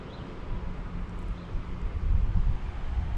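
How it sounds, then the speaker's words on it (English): Gusty wind buffeting a GoPro outdoors among swaying trees, a rumbling low roar that swells and surges, loudest toward the end, with no talking. "I am directly in the wind right now"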